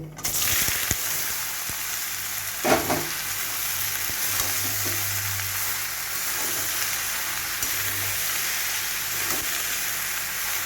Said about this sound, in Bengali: এবার আমি এর মধ্যে লাউগুলো দিয়ে দেবো।